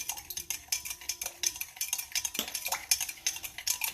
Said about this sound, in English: keep it, stirring, because it will settle and you want it to be blended